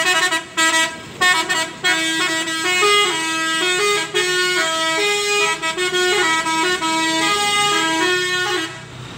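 A bus of the Pangeran 01 service departing for West Sumatra sounds a loud, melodic multi-tone horn, playing a continuous tune of stepped notes with brief gaps, close and dominating.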